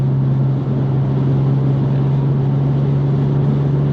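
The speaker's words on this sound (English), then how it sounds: "So 6 gear, 70 mile an hour. You can't even tell it's got an exhaust on it, really, can you?" A VW Up GTI fitted with a dual-exit straight pipe exhaust cruises at 70 mph in sixth gear, giving a steady, even low engine hum and road noise with no rise or fall.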